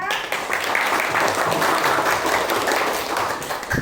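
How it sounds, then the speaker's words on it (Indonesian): A class of children applauding together during a school lesson, a dense wash of clapping that holds steady and loud from start to finish in a roomy space. "Beri tepuk tangan kita."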